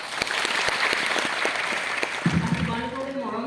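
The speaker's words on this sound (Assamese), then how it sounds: "হাত চাপৰি এটা দিম।" Students at an IIT Guwahati interaction session clap together for their teachers: dense, steady applause of many hands for about two seconds, then a voice starts speaking as the clapping fades.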